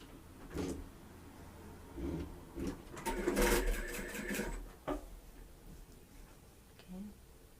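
A sewing machine stitches the edge of a shirt cuff in short bursts, with a louder run of rapid mechanical whirring in the middle and quiet handling sounds between.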